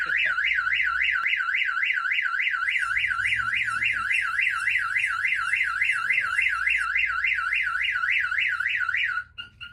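A Viper aftermarket alarm blares from an SS clone car, cycling its loud rising-and-falling siren steadily and close by for nearly ten seconds before cutting off, with low rumble underneath.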